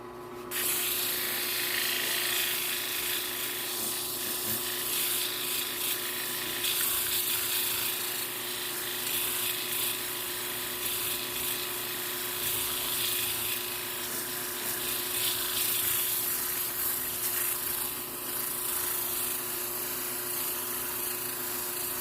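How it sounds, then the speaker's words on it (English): A power sander whines steadily and continuously on wood while shaping a wooden mortar and pestle, with a constant mechanical hum and grinding texture, fairly loud and close. "More sanding."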